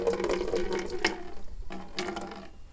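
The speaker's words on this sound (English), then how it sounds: "Add some water." Water runs into a bucket already holding bleach, a soft splashing pour heard close by in two bursts with a short pause between, quiet and with no voices.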